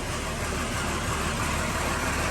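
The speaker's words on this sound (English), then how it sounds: "Idled a bit rough, but it's smoothed out already." A Ford Barra XR6 inline six sits idling steadily just after starting in a shed, a continuous broadband engine drone that holds even and loud throughout without any voices.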